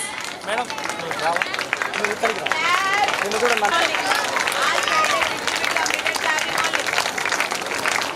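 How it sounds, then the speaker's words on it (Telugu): Parents at a school spell bee competition clap steadily as children are called up, a dense round of applause filling the room throughout, with an announcer's voice over it. "పేరెంట్స్ కొంచెం గట్టిగా చప్పట్లు కొట్టి పిల్లల్ని ఎంకరేజ్ చేయాలి."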